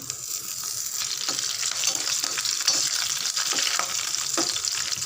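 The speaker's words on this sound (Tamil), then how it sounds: "வடகம் நல்லா பொரிஞ்சிடுது" Vadagam and curry leaves fry in oil as a continuous close sizzle of dense crackling, with small sputtering pops scattered throughout.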